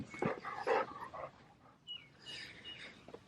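A dog makes short, close vocal sounds, a few quick yips and whines in a quiet room, followed by a higher, softer whimper near the end.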